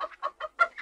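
An old chicken clucks in five quick, close bursts, loud and alone with no talking.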